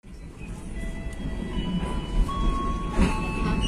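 Kuala Stabas passenger train rolling into a station and slowing, heard from inside with a heavy low rumble, rising wheel and brake squeals, and clunks as the carriage moves.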